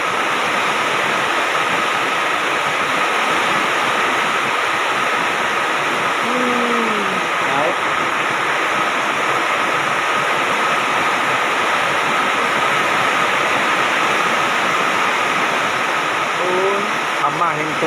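Steady, loud rushing floodwater roars continuously through a rice field after two days and nights of rain, with faint bird calls briefly audible.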